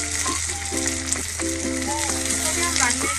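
Onion and garlic sautéing in oil in a pan, giving a continuous close sizzle with intermittent stirring scrapes and clinks over a few seconds.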